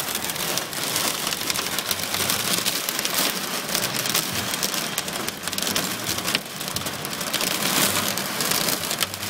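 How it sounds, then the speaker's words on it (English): Heavy rain and hail during a storm pound a surface and car in a dense, loud, continuous hiss with sharper pattering impacts, steady throughout with no talk. "Look, there's hail."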